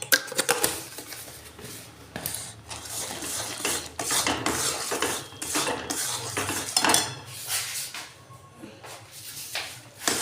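A utensil scrapes and clatters steadily against a metal pot as rice flour is worked into thick jaggery syrup for arisha pitha, with irregular knocks and stirring scrapes close up and no talking.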